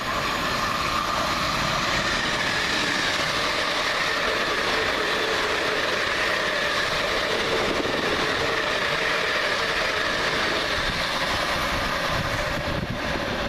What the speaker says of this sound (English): Next up for South West trains, one Papa 21 from London Waterloo to Portsmouth Harbour